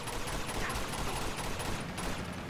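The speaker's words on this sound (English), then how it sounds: "I guess I could shoot these guys." Dense gunfire from a firefight in Uncharted 2: Among Thieves Remastered, a continuous roar of overlapping automatic shots and rattling bursts filling the scene at loud, steady intensity with no talking.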